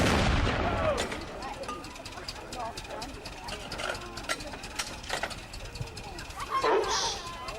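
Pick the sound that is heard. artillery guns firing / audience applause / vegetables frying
artillery guns firing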